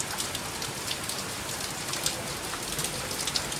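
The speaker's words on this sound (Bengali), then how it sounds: "খুব জোরে হচ্ছে বৃষ্টিটা" A heavy downpour pours steadily on a hot day, a dense, even hiss of rain with scattered sharper drops pattering on nearby surfaces, continuous and close.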